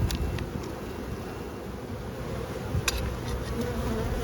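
Worker bees hum around an open hive during an inspection, a dense continuous buzz close to the ear with occasional louder passes as individual bees fly near, under light wind.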